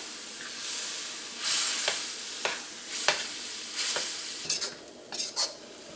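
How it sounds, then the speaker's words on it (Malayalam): Chicken spring roll filling is stirred in a hot pan, a constant sizzle broken by several distinct scraping strokes and clicks of the spoon, close up. "ഇതെല്ലാം കൂടിയിട്ട് നന്നായിട്ടൊന്ന് മിക്സ് ചെയ്യാം."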